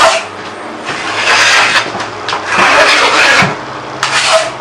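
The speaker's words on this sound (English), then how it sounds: "I'm just skimming tight so that I'm not going to need to sand much once this dries." A trowel scrapes joint compound tightly across a wall in long, close, loud rasping strokes that swell and fade in repeated passes, with no talk.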